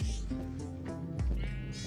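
Minecraft sheep bleating, a couple of short wavering bleats close and clear against a quiet game background.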